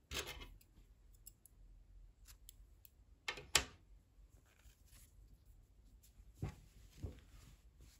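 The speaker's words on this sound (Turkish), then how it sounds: "İpliği kesiyorum." Scissors snip through knitting yarn during hand-knitting, giving a few short, crisp cuts that stand out against a quiet room.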